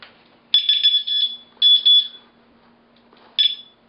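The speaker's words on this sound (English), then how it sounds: "And now we'll alarm it." A home security alarm being armed gives three short high-pitched electronic beeps, the first two longer and close together, then a final brief chirp after a pause.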